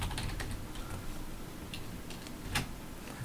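Keys clack on a computer keyboard during word-processor typing, a short quiet run of close taps with a few sharper strikes, no voices.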